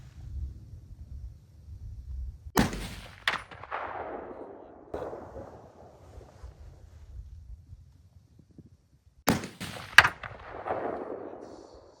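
Two rounds of target-shooting gunfire aimed at a bowling pin outdoors, each a sharp loud crack with a quick double report and a long rolling echo, separated by several seconds of quiet wind rumble.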